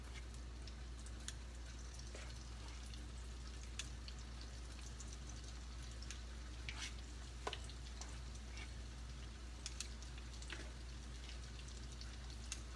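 Hushpuppies frying in hot grease while catfish and fries are being cooked, a steady dense crackle and sizzle with scattered sharper pops, heard close and alone with no talk.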